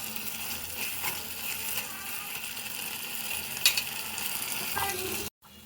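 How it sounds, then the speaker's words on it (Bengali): Dried-fish curry sizzles in a pan, a steady close hiss with a few light utensil taps as it is stirred, cutting off abruptly near the end. "এখন আমি নেড়ে দিব, শুটকির একটা ঘ্রাণ বের হয়েছে।"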